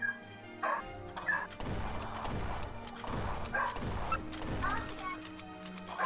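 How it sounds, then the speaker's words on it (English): A dog barks and yips repeatedly in short bursts amid children talking and playing nearby, during a Roblox session with friends. "Stop it, you naughty doggy."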